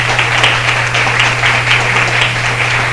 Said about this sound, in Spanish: Yo les pido que le den a Dios un aplauso por eso